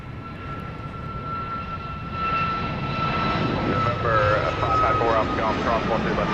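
Jet airliner on approach to land at Dallas Love Field at night, heard as a steady, rising engine roar with a whine, while radio talk from air traffic control plays over it.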